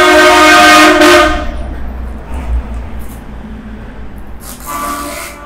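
A train horn blares loud and close for about a second as the train passes, drops away to a low rumble, then sounds again more faintly near the end.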